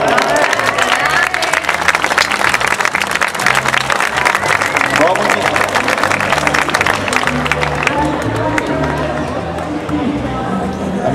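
An audience at a joint concert of two town bands gives a band musician a round of applause, with dense continuous clapping, murmured crowd chatter and a steady low hum running underneath.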